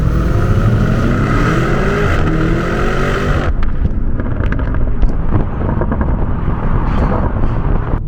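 Lamborghini Urus SUV exhaust popping while driving, a steady loud engine drone with wind rush that suddenly drops off, followed by a scatter of sharp crackles and pops as the throttle lifts.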